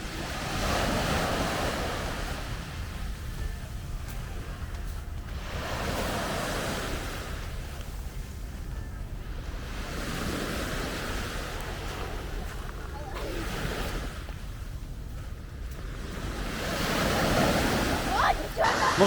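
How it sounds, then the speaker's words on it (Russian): Sea waves surge and break on a beach in steady repeating swells, loud and close, with wind buffeting the microphone and a voice briefly speaking. "Волны, соленая вода, море."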